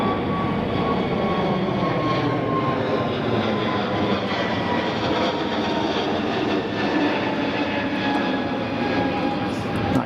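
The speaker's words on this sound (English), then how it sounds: "Here's our Air Baltic." An Air Baltic airliner, a much smaller jet than a 777, takes off at Zurich Kloten Airport with an early rotation, its engines giving a steady, loud broadband roar that stays even and continuous throughout.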